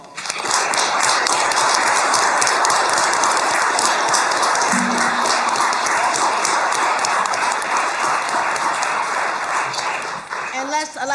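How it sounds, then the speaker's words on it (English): A council chamber audience at a city legislative session gives a sustained round of applause for Chief Dave Mindshine. Dense, loud clapping runs steadily for about ten seconds before thinning out at the end. "Let's give him another round of applause"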